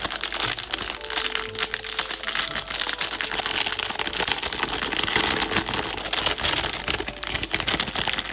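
Advent calendar packages of washi tape and stickers are torn open with continuous crinkling, crackling paper and plastic wrapping, busy and close, with no voices.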